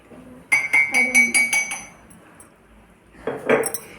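A spoon clinks against a glass while coffee is made: a quick run of about six bright, close taps, then a quieter pause and another short cluster of clinks.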